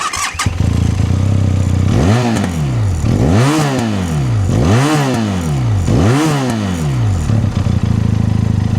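A Benelli 502C motorcycle engine revs hard four times in a row through its dual exhaust, each burst rising and falling, with a deep throaty exhaust idling in between.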